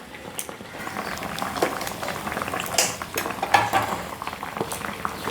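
Chopped onion cooking in a pan with a steady bubbling, spitting sizzle, scattered with clinks of a utensil against the pan, close and moderately loud with no talk.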